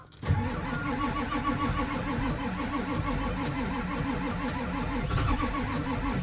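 A grill built from a 7.3L Powerstroke turbocharged diesel engine cranks and fires, then settles into a steady, clattering diesel idle running on alone.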